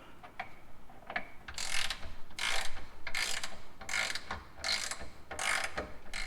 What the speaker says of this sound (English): Now we want to start by tightening the 15mm upper bolts to 42 foot-pounds.